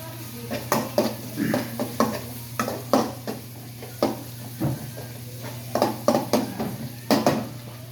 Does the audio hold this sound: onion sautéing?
yes